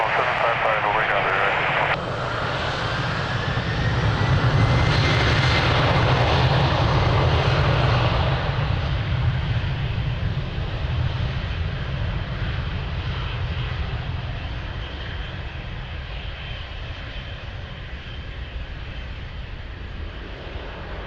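Airliner taking off from runway 02 at Lisbon Airport, a loud broad engine roar that swells and then slowly recedes, with radio voices talking over it.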